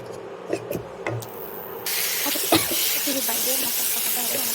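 Tomato and spice masala frying in a pan, a steady broadband sizzle that swells louder partway through, with occasional stirring knocks and brief spatters close by.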